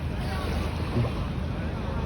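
Low rumbling wind and water noise with a heavily loaded tuna fishing boat's engine droning nearby as it arrives at the shore, a steady outdoor wash over a couple of seconds.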